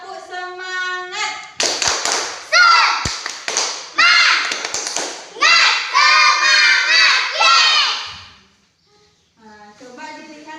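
Classroom of young primary schoolchildren chanting together with rhythmic bursts of group clapping, loud and close, voices and claps intertwined in several short phrases before a brief pause and a softer final burst.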